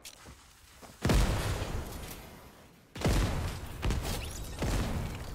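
Bursts of gunfire in Fortnite, loud sharp volleys starting about a second in and again near three seconds, with sustained rattling between.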